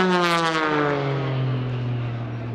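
A propeller-driven aerobatic airplane flown by Matt Chapman sweeps past at the 2017 Greenwood Lake Airshow, its loud droning engine note sliding steadily lower as it passes nearby and pulls away, with no talk over it.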